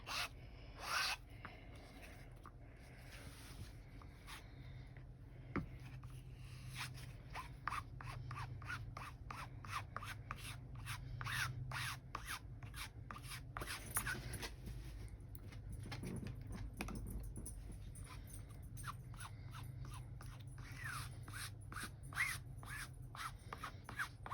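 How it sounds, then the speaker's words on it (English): Repeated rough scraping strokes across cotton fabric, taking excess OdiCoat coating off, a steady rasping rhythm of short swipes, close and fairly quiet, with no talking. "You're scraping it to take off the excess."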